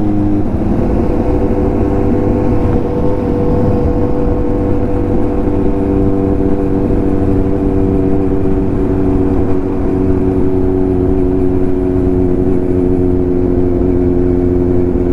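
A Kawasaki Z900 motorcycle with an aftermarket exhaust idles and revs loudly up close, its deep droning engine note holding steady across the whole stretch with layered rumbling tones and no voices.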